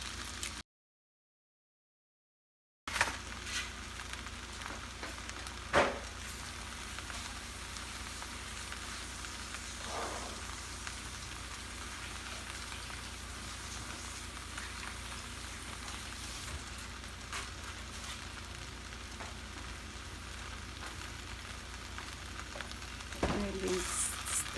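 Flat rice noodles stir-fried with egg and Chinese broccoli in a Cambodian home kitchen give off a steady, moderate sizzle throughout, with a few scrapes of stirring and a voice talking over parts of it.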